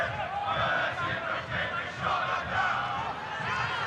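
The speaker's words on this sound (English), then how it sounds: "we can hear the Cambridge crowd loud and clear now. They are chanting." Cambridge rugby league supporters chant in the stadium at the Varsity match against Oxford, a steady, full-bodied roar of many voices that swells and dips without a break.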